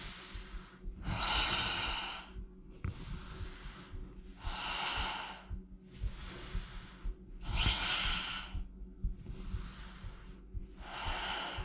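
Steady, heavy breathing in and out during a full-body mat workout with squats and twists, each breath a loud broadband rush repeating about every one and a half seconds, close and alone with no talk.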